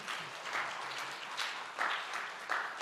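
A church congregation at an afternoon worship service claps, a soft, fairly distant round of applause that swells in several waves as each person is honored.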